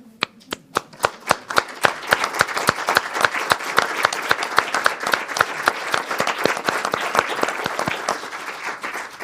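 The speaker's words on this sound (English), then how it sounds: "do you mind standing so I can give you a round of applause?" Audience applause for military veterans standing at a women veterans' roundtable: sparse individual claps at first, quickly building into dense, steady clapping from a sizable crowd that holds for several seconds, then thins slightly.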